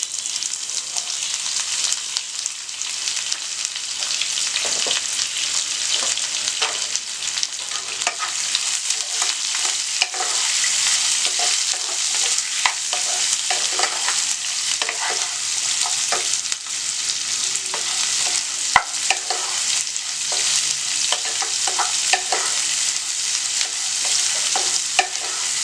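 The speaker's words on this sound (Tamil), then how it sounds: "வதங்கட்டும்." Two large onions sautéing for chicken salna, a steady hiss of frying in a pan with frequent stirring scrapes and small crackles throughout, close and continuous with no talking.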